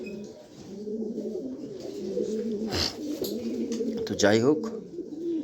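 Frightened pigeons in a pen of top-quality birds for sale coo in low, rolling calls throughout, with someone talking over them the whole time.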